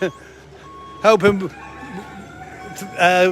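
Chickens cluck and squawk in short bursts, with a loud flurry near the middle and another at the end, over faint background noise.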